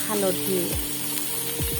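Spices sizzle and fry in a pan with salt and turmeric, a steady crackle under a voice speaking throughout.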